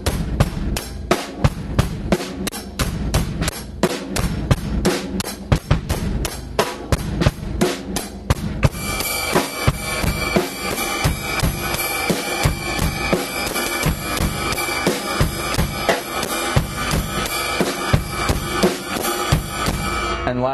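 A straight drum beat with the snare backbeat shifted from 2 to the and of 3, played steadily and loudly on its own, with driving hi-hat strokes that thicken partway through.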